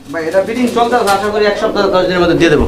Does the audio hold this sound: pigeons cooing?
yes